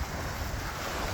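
Strong wind buffeting the microphone over rolling surf on a beach at Sunset Key near Key West, a dense, continuous roar with no speech.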